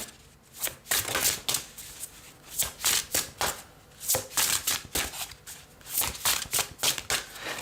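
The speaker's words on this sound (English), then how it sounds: "These are kind of too big to shuffle." Oversized tarot cards being shuffled in quick riffling bursts, a repeated papery flutter with short pauses between rounds, close and fairly loud.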